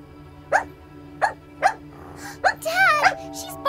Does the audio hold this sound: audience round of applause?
no